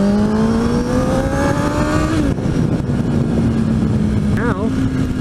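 A Kawasaki 636 sport motorcycle engine drones steadily while riding. The engine tone holds and shifts in pitch under loud, constant wind rush throughout.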